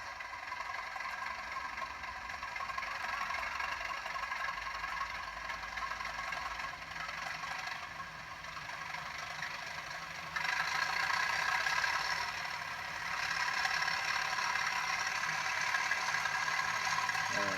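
A Class 37 locomotive model train, fitted with an iPhone speaker, gives a steady engine drone with whirring and rattly texture that grows louder partway through and then holds, continuous and fairly close.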